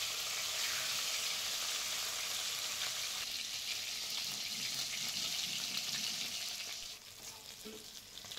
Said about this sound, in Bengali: মাছটাকে মিডিয়ামভাবে ভেজে নেব।